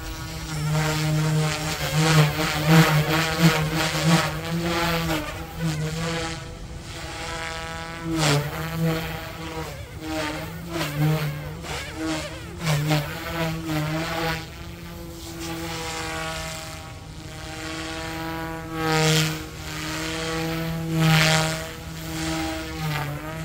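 OMPHobby M2 EVO RC helicopter in flight, a steady buzzing rotor and motor whine that rises and dips as it maneuvers, continuous and fairly close throughout with no talk.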